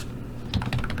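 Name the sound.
typing on a computer keyboard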